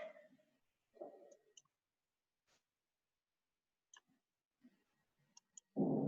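A computer mouse gives a handful of sharp, isolated clicks, spaced unevenly, with a person talking briefly before and after.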